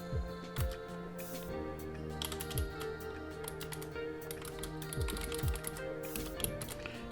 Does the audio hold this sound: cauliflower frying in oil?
no